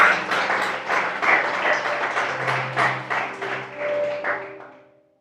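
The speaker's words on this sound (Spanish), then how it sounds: "Den un aplauso al Señor." A church congregation claps rhythmically in praise during a worship service, steady claps over sustained musical tones, then fading out near the end.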